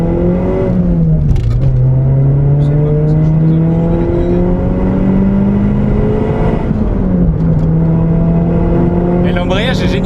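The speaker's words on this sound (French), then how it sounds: "Tu peux peut-être nous faire une petite accélération, Félix?" Peugeot 206 RC, a road-legal rally car, engine accelerating under load with a loud rising drone that climbs through gear changes, with people talking over the steady engine noise inside the car.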